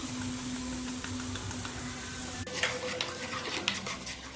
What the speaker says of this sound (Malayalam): ഈ ഒലിവ് ഓയിൽ കിടന്ന് നന്നായിട്ടൊന്ന് ഇളക്കി കൊടുക്കണം.